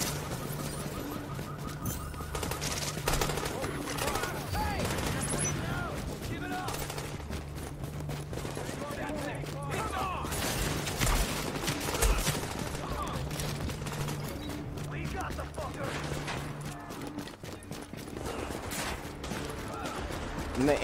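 Incendiary-round gunfire in The Division, with dense, rapid automatic bursts rattling almost continuously at close range while players talk over the shooting.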